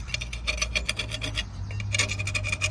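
Caked scale and rust being ground and rasped off a metal baseplate, a rough scraping in repeated short strokes, close and fairly quiet with no talk.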